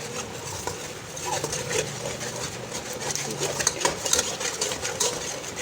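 A spoon stirs and breaks up eggs in a hot pan with spices and leftover rice, giving steady scraping and clattering with a light sizzle throughout, close and fairly busy.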